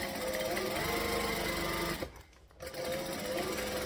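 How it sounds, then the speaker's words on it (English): A sewing machine stitches a cotton canvas bag, a fast steady mechanical rattle that pauses briefly midway and then resumes at full speed. "See, and you can stitch nice and fast with this fabric."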